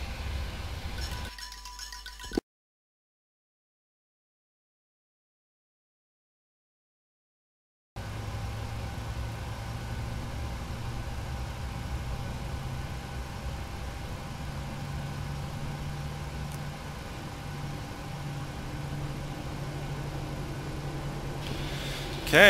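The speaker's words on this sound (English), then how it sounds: "and engine number 2 idle." Jet engine idling in a PMDG 737NGX flight simulator, a steady low rumble and whine that holds evenly after a stretch of silence, with no talk over it.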